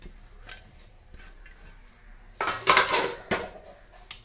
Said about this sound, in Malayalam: ഇനി നമുക്കിതിലേക്ക് നമ്മൾ തിളപ്പിച്ച് ഊറ്റി വെച്ച വാട്ടപ്പൂളി നമുക്കിതിലേക്ക് ഇട്ട് കൊടുക്കാം